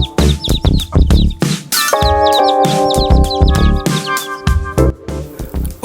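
Young chicks with their mother hen are let out to dust-bathe. Rapid high peeps repeat throughout, close and fairly loud, mixed with sustained bell-like tones in the middle.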